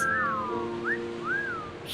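A pirate crew whistles in a few clear, rising-and-falling tonal glides, close and moderately loud, with no talking.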